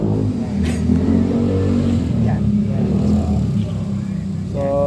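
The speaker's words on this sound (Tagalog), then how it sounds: "So ito po yung video ng crankshaft na sira." An Aerox V2 scooter engine with a damaged crankshaft idles and revs with a rough, grinding knock running steadily through it, loud and close, with no talking.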